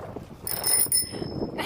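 A bicycle bell rings in a few bright metallic dings over wind and rumble, close and fairly loud.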